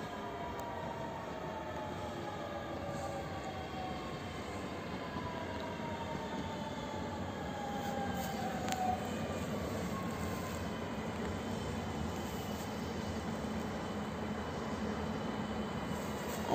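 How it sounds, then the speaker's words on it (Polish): An electric commuter train rolls through Warszawa Reduta Ordona station steadily, its wheels and motor making a continuous rumble with faint whining tones, moderately distant and without voices. "I mamy też pociąg WKD."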